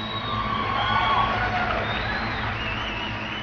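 A crowd cheers and shouts steadily at a cat wrestling event, a dense, continuous roar of voices with high whoops, moderately loud and without pauses.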